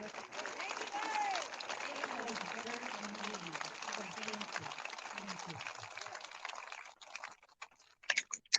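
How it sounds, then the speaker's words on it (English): Outdoor applause from a crowd at a September 11 memorial re-dedication ceremony in Chino Valley comes as patchy, clattering clapping mixed with voices. It fades out toward the end, leaving a few scattered sharp claps. "Can we please have a round of applause for Mr. Larry Holt?"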